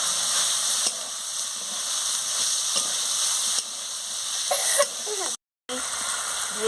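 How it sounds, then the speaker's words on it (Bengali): Potatoes and green peas frying with spices in a pan, a steady loud sizzle with occasional stirring scrapes and a brief gap near the end. "আলু আর কড়াইশুঁটিটা মশলার সঙ্গে দিয়ে দিচ্ছি, দিয়ে মশলার সঙ্গে ভালো করে কষিয়ে নিচ্ছি।"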